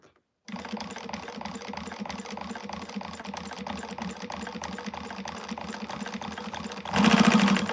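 A sewing machine stitches through thick, bulky quilt layers in a fast, even run of mechanical clatter, close and steady, growing louder near the end.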